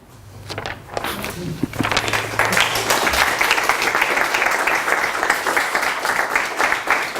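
Audience at a university lecture in Lyon breaks into applause, starting sparse with a few claps and a voice, then swelling into steady, dense clapping that fills the room.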